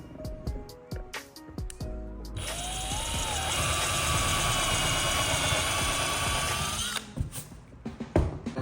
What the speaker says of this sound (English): I'm gonna go ahead and drill a pilot hole for a pin.